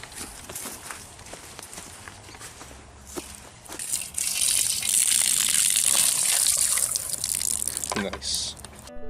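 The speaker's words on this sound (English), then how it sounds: "Nice, fresh hose water, straight from the lake" Garden hose water gushing into a backyard pool, a steady loud splashing rush that swells after a few seconds and continues, with footsteps and faint movement around it.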